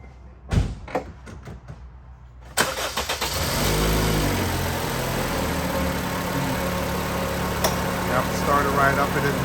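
A Honda Civic fitted with a fresh Interstate MT51R battery cranks briefly and catches, then settles into a steady close idle, preceded by a few clicks and thumps, with voices speaking over it.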